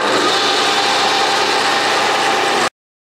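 Metal milling machine in a home machine shop roughing out most of the stock for a tool-post indicator holder, a steady dense grinding whir with constant cutting noise throughout, close and loud, then stopping abruptly.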